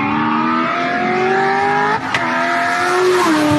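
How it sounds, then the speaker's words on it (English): A subscriber's car revs hard, its engine note climbing in steady harmonic sweeps with a brief dip at a gear shift, then pulling again; loud and close, with no talking. "that is like so far the best sounding car I think we've heard"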